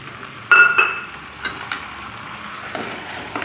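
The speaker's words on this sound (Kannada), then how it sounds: "ಮಸಾಲೆ ಮತ್ತು ಟೊಮೊಟೊ ಜೊತೆ ಚೆನ್ನಾಗಿ ಫ್ರೈ ಮಾಡ್ಕೊಳ್ಬೇಕು ಚಿಕನ್ನ" Chicken frying in a pan with ground masala paste and chopped tomato: a few sharp sizzling bursts and stirring clatters, then a softer steady sizzle at close range.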